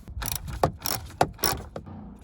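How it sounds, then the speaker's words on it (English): A ratchet backs out a 7mm screw from the dash of a 10th-generation Ford F150, giving a close, steady run of clicking strokes in quick repeated bursts, with no talk. "One more screw that we need to take off."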